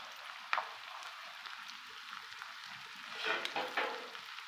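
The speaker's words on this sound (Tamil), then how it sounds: "ஒரு 2 நிமிஷம் போல் நல்லா வதக்கிக்கலாம்." Capsicum, cabbage and carrot stir-fried in a pan, giving a steady close sizzle with soft scraping stirs and a few sharper clatters, including a louder burst near the end, and no voices.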